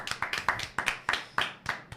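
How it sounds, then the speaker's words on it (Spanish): Clapping at a church service, a quick run of about a dozen sharp claps, close and even, with no talk over it. "un aplauso."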